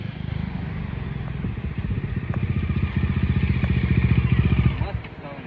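A KTM Duke 200 or Bajaj Dominar 250 motorcycle engine revs with a pulsing, throaty rumble that grows louder as it approaches, then drops off sharply near the end.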